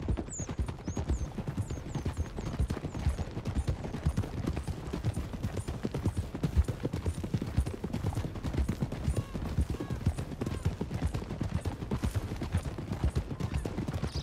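Horses' hooves clip-clop steadily and quickly in the Red Dead Redemption 2 video game, several riders moving together at a brisk pace, with a brief whinny near the start and a constant rumbling background.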